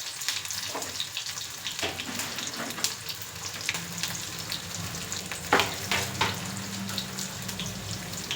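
Onion, garlic and spices fry in oil for pudina rice, giving a close, continuous sizzle broken by stirring scrapes and a few sharper clinks.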